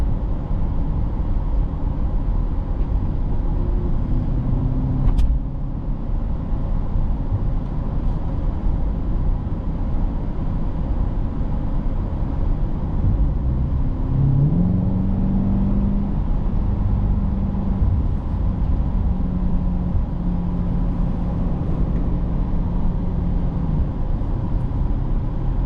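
A 2024 Chevrolet Corvette C8 engine pulls hard in third gear, a loud continuous drone heard from inside the car as the pitch climbs steadily, with a brief shift-like dip midway.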